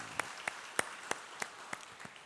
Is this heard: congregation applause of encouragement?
yes